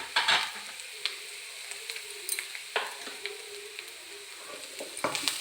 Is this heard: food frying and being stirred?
yes